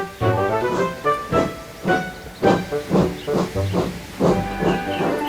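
A steam locomotive chugs along in a loud, close series of about a dozen rhythmic puffs of hissing steam.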